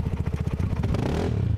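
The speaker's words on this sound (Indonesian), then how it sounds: "Kenapa motor kamu, Sul? Kok gak bisa ya?" A motorcycle engine cranks in rapid, rhythmic chugs without catching, a close, loud stuttering turnover that smooths into a brief whir near the end.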